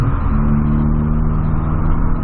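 A Volkswagen Golf fitted with a large exhaust tip accelerates with a loud, steady engine drone heard close from inside the car, holding a deep, even hum throughout.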